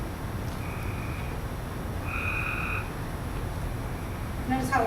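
Tree frogs, including Cope's tree frog, call outdoors in short, high trilled notes, two clear bursts rising over a constant hiss of background noise.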